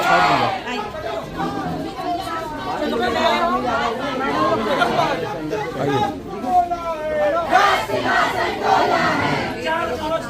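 A crowd of college students at NDC College in Budhar shouts protest slogans against the principal, loud overlapping chanting voices that swell and fall in repeated bursts, close and dense throughout.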